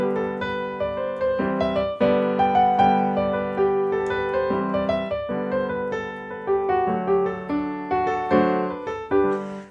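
A syncopated, ragtime-style rendition of a classical piano piece, with off-beat accents and busy chords and melody. The solo piano plays continuously and fairly loud, with no talking.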